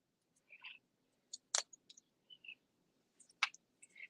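Scissors snipping out homemade stamp shapes, a few short, sharp cuts and clicks spaced apart, close and quiet with no talking.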